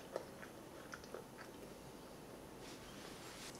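Faint, close crunching bites and chewing of a hard Polish army ration cracker, a few sharp cracks early on against quiet room noise.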